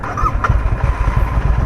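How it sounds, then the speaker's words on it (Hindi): A motorcycle cold start in a city: the engine catches with a brief mechanical crank and settles into a loud, close, chugging idle with a steady low pulse. "बाइक को देते हैं कोल्ड स्टार्ट।"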